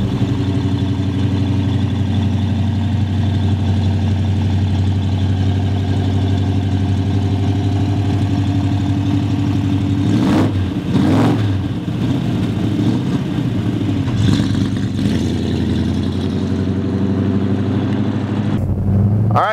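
A 1967 Plymouth Barracuda convertible engine idles with a loud, steady rumble and throbs through a couple of short revs midway, then settles back, close by and without speech.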